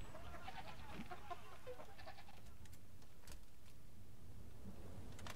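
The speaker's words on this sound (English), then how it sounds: "A chicken and a goat." A goat bleats in the Halo 3 ODST video game, several short bleats in the first seconds over a steady game-ambience bed, moderately close.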